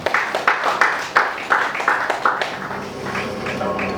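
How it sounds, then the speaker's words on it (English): Audience at a corporate customer reward dinner applauding to welcome a guest speaker, a few sharp claps at first that settle into a steady round of moderate clapping in a room. "Please a warm round of applause for Mr."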